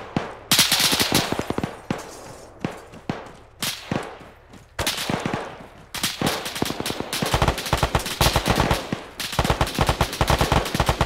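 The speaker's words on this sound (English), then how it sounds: "Sounds like we've got two more shots to our left." Video game gunfire in a tactical mission, with single shots and rapid bursts crackling in irregular clusters, loud and close, building to sustained automatic fire toward the end.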